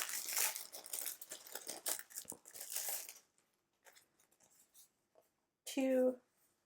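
Archer & Olive matte sticker sheets being unwrapped, with a burst of crinkling and tearing packaging up close, then quieter rustles and a short squeak at the end.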